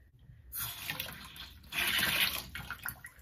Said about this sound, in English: The water is on full blast